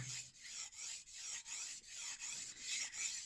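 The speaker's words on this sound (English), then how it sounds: "plenty of water on the stone to lubricate the stone and to make the sharpening much smoother" A knife edge is drawn across a wet 10000 grit water stone in repeated even strokes, about nine soft rasping passes with brief gaps between them, close and steady, with no voice.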